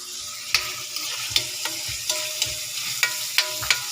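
String beans fry in a little oil in a pan, a soft continuous sizzle punctuated by regular clinks and scrapes of a spatula stirring, fairly quiet and close.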